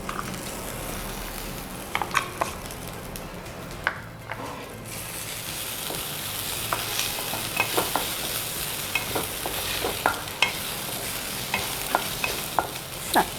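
Vitamin soppu greens frying and being stirred in a pan, steady sizzle broken by repeated scraping and clinking strokes of a ladle, close and fairly loud, with no talking.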